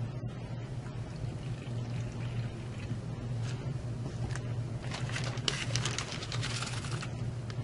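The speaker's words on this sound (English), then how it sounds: "I'm adding a 1/4 cup of water" Water is poured from a quarter-cup measure into Cool2Cast casting powder inside a plastic bag, making a steady close trickle and splash that runs the whole time, with no talking.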